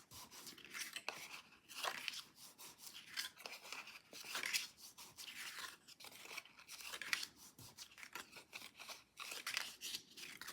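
Paper flaps of a Christmas ornament keepsake box stand are folded down by hand, giving a close series of crisp rustles, creases and crinkles in uneven bursts.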